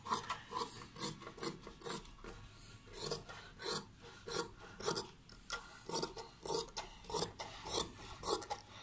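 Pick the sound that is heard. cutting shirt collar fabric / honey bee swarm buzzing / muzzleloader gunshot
cutting shirt collar fabric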